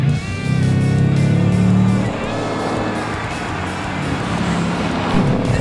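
A 2019 Ford Mustang Bullitt V8 exhaust note rumbles loud and close, with a strong low drone for about two seconds before dropping into a steadier, lower burble as the engine blips through a rev-matched downshift.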